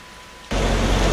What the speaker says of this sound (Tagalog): Ganito kalakas ang ulang sumalubong sa amin pagdating sa Ilocos Sur kanina.